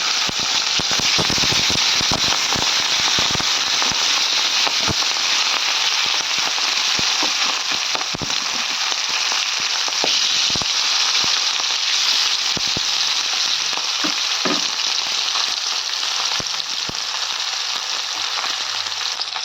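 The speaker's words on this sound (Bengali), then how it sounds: "এখন তো মাছগুলো আমি ভেজে নেব।" Pieces of rohu fish fry in hot oil in a wok, a loud, dense, continuous sizzle with frequent sharp crackles and pops spattering throughout, close up and with no talking.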